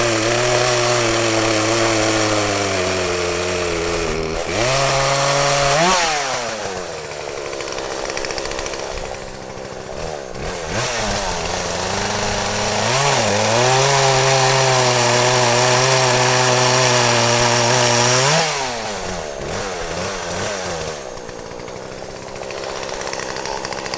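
A chainsaw cuts firewood from a tree that is solid in the middle and slightly punky on the outside. The engine drones loud and close throughout, its pitch dipping and rising as the chain bites into the wood and frees.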